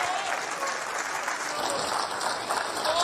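Audience applause filling a snooker arena at the 2023 Tour Championship, a dense sustained clapping from the crowd lasting a few seconds.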